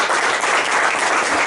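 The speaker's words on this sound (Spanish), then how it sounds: "Pueden darle una fuerte ofrenda de palmas al Señor" A church congregation gives a loud, dense offering of applause to the Lord, a continuous wall of many hands clapping close by with no pause.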